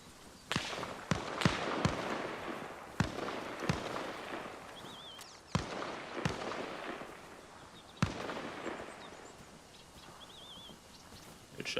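In the military shooter Arma Reforger, sniper rifle shots crack out sharply at irregular intervals, with several sharp reports and distant echoing booms, over quiet outdoor ambience with faint bird calls.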